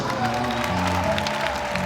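A church congregation applauding together, a steady wash of many hands clapping with crowd noise and murmuring voices mixed in, continuous and fairly near throughout.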